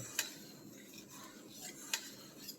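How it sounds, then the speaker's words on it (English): A spoon stirs rice in a pot on the stove, a faint scraping with a few sharp metallic clinks spread out over a quiet background. "I keep stirring it because I don't want it to stick to the bottom of the pot"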